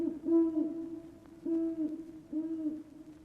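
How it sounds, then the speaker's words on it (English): Three low, hollow owl hoots, each a drawn-out tone, spaced about a second apart against near silence. "The owl sound effect."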